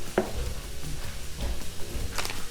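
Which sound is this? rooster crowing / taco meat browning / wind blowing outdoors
taco meat browning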